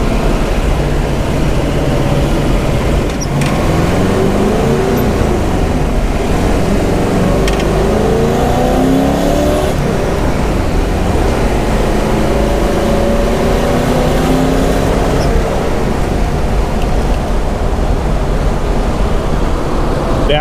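A candy apple red Corvette Stingray engine revs with a steady, loud roar and rising and falling pitch, holding a continuous throaty drone throughout.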